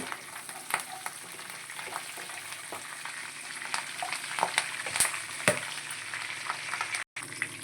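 Curry leaves and urad dal fry in hot oil, a steady close sizzle and crackle with sharp pops and occasional stirring clinks, continuous throughout with a brief dropout near the end.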